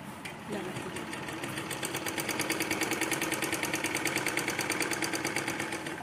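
Sewing machine stitching a Patiala salwar before pleats are added, a fast, steady mechanical rattle of the needle running continuously after a short start.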